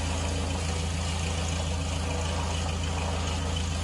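Carenado Ovation light aircraft engine idling in Microsoft Flight Simulator, heard from outside the plane as a steady, loud low-pitched drone with a constant throb, continuous and unbroken, with no talking.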